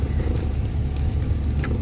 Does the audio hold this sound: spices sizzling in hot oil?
no